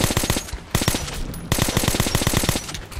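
Rapid automatic gunfire in Metro Last Light: loud, close machine-gun bursts in quick rhythmic volleys, with two brief pauses between strings of shots.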